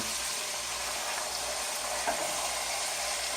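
Lamb chops searing in a hot pan for a home lamb stew, giving a steady, dense sizzle close by that holds level throughout with no talking.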